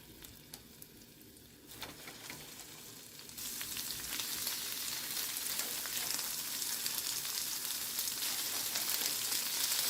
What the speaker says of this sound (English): And I'm just going to go ahead and cook our shrimp lightly.